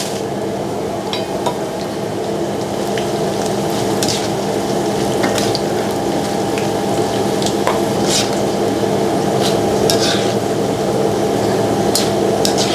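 Ingredients for Thai chilli paste (Nam Phrik Pao) fry in a pan with a loud, steady sizzle that lasts throughout, broken by occasional sharp clicks and scrapes from stirring.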